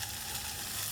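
Onions sweating in a little fat, giving a soft, steady sizzle and light frying crackle that runs evenly throughout, close and moderately quiet with no voices.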